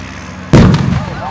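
A single sudden loud blast of a pyrotechnic explosion at a CVRT Scorpion tank and vehicle firepower demonstration, booming close and then rumbling away over about a second.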